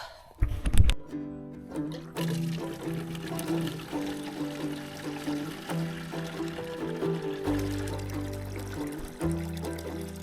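Water pours and trickles steadily to rinse dirt out before soaking, a continuous wet rush with a low hum underneath that swells toward the end.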